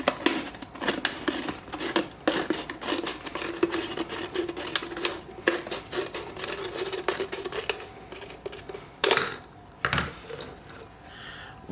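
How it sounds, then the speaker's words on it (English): Sharp scissors cut through the top of a plastic bottle, producing a series of irregular crisp snips and crunching clicks, close and fairly loud, with a couple of louder cracks near the end. "get an adult to help you cut the top of the bottle using a sharp pair of scissors"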